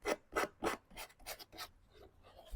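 Abrasive rubbing along the edges of painted wooden furniture to distress the finish: three strong, evenly spaced scrapes followed by softer, quicker strokes, close up and isolated.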